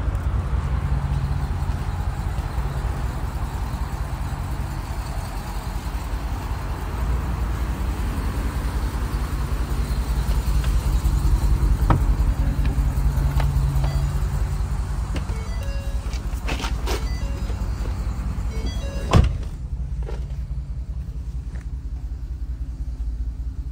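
Gasoline engine of a 2023 Collins DH500 school bus idling after a start: a steady low rumble throughout, swelling slightly midway, with a brief sharp knock near the end.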